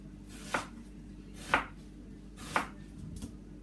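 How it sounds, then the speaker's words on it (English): Onions being chopped into chunks on a cutting board while making chicken curry: three sharp, evenly spaced knife strikes about a second apart plus a lighter fourth, close and clear against a quiet kitchen. "I'm going to go ahead and cut my onions"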